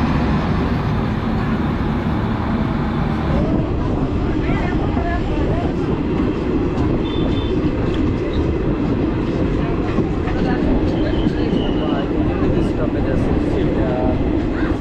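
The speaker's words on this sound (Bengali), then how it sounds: "এই মালগাড়িটা ঠিক ওই পাশ দিয়ে তিস্তা তোরসা বেরিয়ে যাচ্ছে।" A freight train rolls past on the adjacent track at Haluabari Road Junction, a steady loud rumble with faint wheel clatter filling the whole stretch, while people talk nearby.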